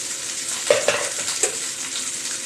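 Rice being stirred with salt in a hot pan, giving a steady frying sizzle with a few soft scraping knocks of the spoon close by, no talking.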